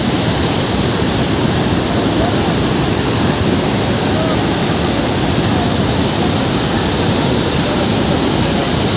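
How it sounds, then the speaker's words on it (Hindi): River water at Bhedaghat, flowing down from Bargi Dam, rushes with a loud, constant roar of dense broadband noise, like a waterfall, steady from start to finish. "और ये जो सारा पानी है ये अभी बरगी डैम से यहाँ आ रहा है बहता हुआ।"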